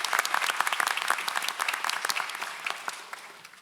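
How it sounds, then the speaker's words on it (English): Steady applause from an audience at a school board meeting, dense overlapping clapping that fills the room and tapers slightly toward the end, with no talk over it. "Another round of applause for Ms. Ochoa and Mr. Luna."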